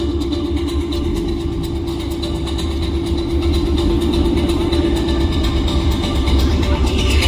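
A Ford Mustang engine rumbles steadily and loudly throughout at a car meet, a deep low drone with no clear pull-away or fade, no speech over it.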